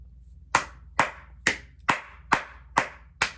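One person claps seven times at a steady, unhurried pace, each clap crisp and close, with nothing else but a faint low hum underneath.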